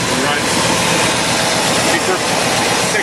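A 1964 Oldsmobile Starfire engine idles with a Carter 625 CFM carburetor swapped in for the Rochester, a steady close, loud broadband drone with no gaps or changes in pace.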